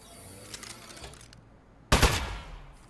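A rapid burst of automatic gunfire from an Aperture Science turret in the game Desk Job erupts loud and close after a quieter stretch of light mechanical clicks.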